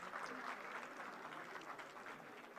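A crowd at a political birth anniversary event claps steadily, a dense wash of applause heard from a distance, fairly faint and even throughout.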